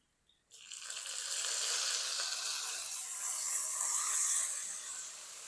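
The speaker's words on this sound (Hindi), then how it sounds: "फ़ौरन से हम क्या करेंगे, इसके अंदर 1 कप पानी डाल देंगे।" A cup of water poured into a hot frying pan: after a brief quiet moment, a sudden loud sizzle bursts out and settles into a steady, close hiss for several seconds.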